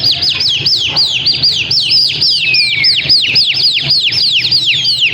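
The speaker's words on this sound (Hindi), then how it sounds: "कबूतर चढ़े हुए" Rooftop contest pigeons flying up set off a dense run of rapid, sharp chirps and calls, close and loud, repeating continuously over low background rumble.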